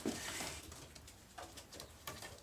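Soft pigeon cooing close by in a coop, faint and intermittent against a hissy, noisy background.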